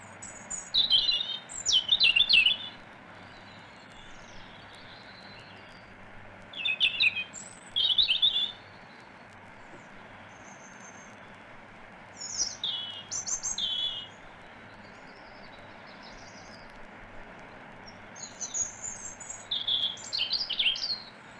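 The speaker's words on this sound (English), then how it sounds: "The robin fell silent in July, but towards the end of August he begins to sing again with a new and melancholy autumn song." A robin sings its autumn song in a woodland or garden: short, high, thin phrases repeated every few seconds with pauses between them, clear against a quiet, steady background hiss.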